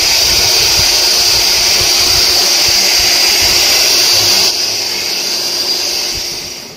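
A hair dryer blows during a men's hair rebounding treatment in a salon, a loud, steady, close airflow roar that drops slightly in level partway through and then fades near the end, with no talking.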